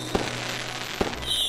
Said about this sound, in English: I wonder, why are fireworks different colors?